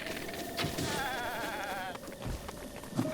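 Goats bleating in Zelda: Breath of the Wild, a wavering nasal cry that holds for about a second, with other game sounds around it.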